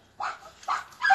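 Three poodles bark in short bursts, three separate yaps spaced about half a second apart, close by and fairly loud with no talking.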